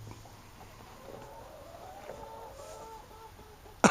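Chickens clucking softly inside a hen house on a foggy morning, a few quiet, scattered clucks over low background noise, ending with a brief sharp knock close by.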